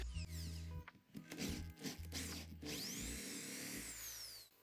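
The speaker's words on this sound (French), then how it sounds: "percez un trou avec un foret fin, puis avec un foret de 10 mètres" Hand drill boring a hole with a fine bit for a homemade antenna, a close whirring run with short stops and a rising whine near the end, no speech.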